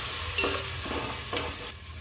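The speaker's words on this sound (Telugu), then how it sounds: "ఆయిల్ అనేది పైకి తేలేంత వరకు మనం బాగా దీన్ని ఫ్రై చేసేసుకుందాము" Dandi masala paste sizzling in hot oil for veg kuska, broken by a few short scraping stirs of a spoon against the pan.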